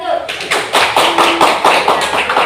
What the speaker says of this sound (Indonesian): kita beri tepuk tangan kelompok